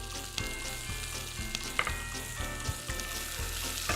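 Diced shallot, garlic and cranberries fry in butter with a steady, close sizzle, interrupted by occasional clanks and scrapes of stirring in the pan; no one speaks.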